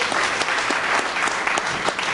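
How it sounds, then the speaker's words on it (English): Steady, loud applause fills a conference hall as an audience claps together, continuous and close throughout the short stretch. "Give yourself a big round of applause and a big round of applause for Rich."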